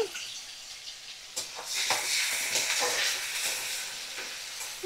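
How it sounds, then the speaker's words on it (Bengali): Chopped onions, two medium ones, frying in oil in a pan over a medium gas flame, a steady bright sizzle with scraping stirs, close and fairly loud. "দেখো আমি ভালো করে পেঁয়াজ ভাজা করে নিচ্ছি"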